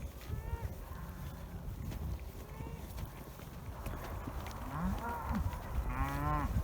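Several cows moo at intervals, some near and some farther off, over a quiet outdoor background with faint shuffling.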